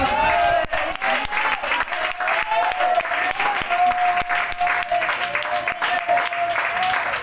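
A church congregation at an evangelistic service applauds and cheers loudly and continuously, with scattered voices and whoops rising over the dense clapping throughout.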